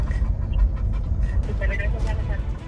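A dog pants close up inside a car, giving quick rhythmic breaths over a low engine rumble, with a voice briefly heard nearby.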